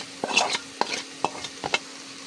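Pre-fried river shrimp stirred into onions fried down with chili, salt and cumin powder, giving a string of close spatula scrapes and knocks over a soft sizzle, with no talking.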